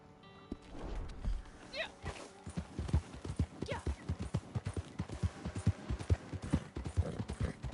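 Horse hooves clip-clop steadily in Red Dead Online, a quiet rhythmic run of hoofbeats with a couple of faint whinnies mixed in.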